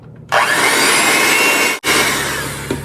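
An electric mixer whirs loudly and continuously as it blends mashed bananas, sour cream and vanilla for banana bread, cutting out briefly once before starting again.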